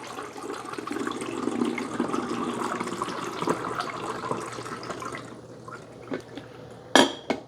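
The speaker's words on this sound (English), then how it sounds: "So you're going to pour the water right here" Water pours steadily from a carafe into a De'Longhi BCO430BM combination coffee and espresso maker for several seconds with a soft rushing hiss, then stops, followed by a couple of light plastic clicks and knocks.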